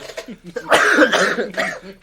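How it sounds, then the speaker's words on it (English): A few short, rough coughs close by, with a burst of harsher coughing in the middle and at the end. "You're coughing."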